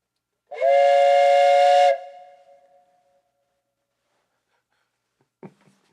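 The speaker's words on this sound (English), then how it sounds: "This is a double train whistle" Someone blows an old metal double train whistle once in a loud, close, breathy two-tone blast lasting over a second, then lets it fade. A faint brief knock follows, with no talking.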